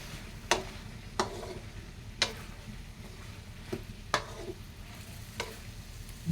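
Upo and sardines fry quietly in a pan while a utensil scrapes and stirs them, about six soft, evenly spaced scraping strokes over a faint background sizzle.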